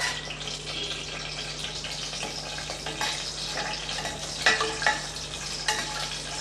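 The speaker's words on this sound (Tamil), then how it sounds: "ஒரு அஞ்சுலேருந்து ஆறு கிராம்பு ரெண்டு பிரியாணி இலை கொஞ்சம் கல்பாசி இது எல்லாம் கொஞ்சம் நல்லா பொறிஞ்சு வரட்டும்" Cloves, bay leaves, cardamom and stone flower sizzle steadily in hot oil for vegetable biryani, a close, continuous crackling fry with a few sharper pops and a stirring scrape, no voices.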